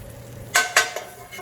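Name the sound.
scooping cheesesteak filling around a pan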